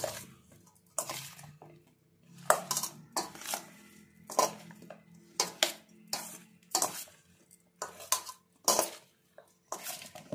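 Spoon scraping and clinking against a pot while mushroom masala is mixed with chilli and coriander powder, repeated bursts of metallic clatter at an uneven rhythm, close and moderately loud, no talking.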